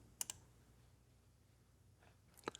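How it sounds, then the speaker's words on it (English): Computer mouse clicks sound twice: a quick double click near the start and another pair near the end, sharp and close over a faint quiet room tone. "I'll click Continue."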